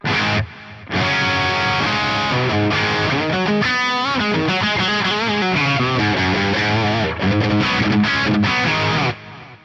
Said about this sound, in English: Essentially, it's the same as a stereo echo in the SPX90